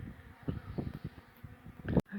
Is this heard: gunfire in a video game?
no